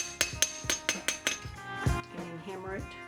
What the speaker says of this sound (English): We'll hammer around the corners, give a little more finished piece right there.